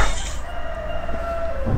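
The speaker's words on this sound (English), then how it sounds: "Roosters." Roosters crow at five in the morning, one long loud drawn-out call held close by and standing alone without talk.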